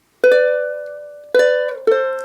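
Three plucked ukulele phrases from the accompaniment to "Hard Times Come Again No More", each a bright ringing strum or chord that sustains and slowly decays, the first long, the next two shorter, played alone without any voice.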